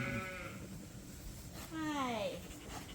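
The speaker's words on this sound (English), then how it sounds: "Different style of sheep, these ones." Sheep bleating on a sheep farm: two drawn-out, wavering bleats close by, one at the start and a longer, falling one midway, over steady outdoor background noise.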